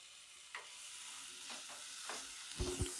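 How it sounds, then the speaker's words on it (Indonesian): Soft stirring and light sizzling of ground shallots and garlic sautéing in virgin coconut oil in a pan, with a few scraping clicks and a louder clatter near the end; no voices. "Bawang merah dan bawang putihnya sudah dihaluskan, kita tumis."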